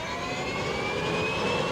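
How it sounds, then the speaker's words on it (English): A TPE331 turboprop aircraft engine starts up, giving a steady, loud whine with a rising high tone over broadband roar, close by and continuous with no talking. "start the engine"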